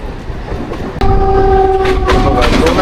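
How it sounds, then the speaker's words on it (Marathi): A Mumbai local train heading to Goregaon runs loudly close by, with rumbling wheels and a sustained horn tone that swells in about a second in and holds to the end. "आणि ही ट्रेन चालली आहे गोरेगावला."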